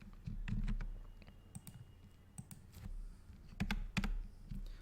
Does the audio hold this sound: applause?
no